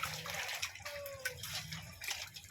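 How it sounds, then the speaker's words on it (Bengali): Water gushes from a tube-well tap while fish is washed beneath it at an outdoor washing spot, a soft, steady splashing stream with faint clinks and drips, fairly quiet and without speech. "কলতলায় চলে এসেছি মাছটা ধুতে এই দেখো মাছটা ধুয়ে নিচ্ছি"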